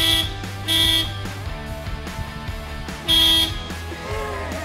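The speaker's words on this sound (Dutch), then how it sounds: "deze heeft een hele speciale toeter hier" The special horn on a Volvo FH420 truck sounds two loud, brief blasts about two seconds apart over a low idling engine. The truck is parked for unloading in Leeuwarden. No one speaks.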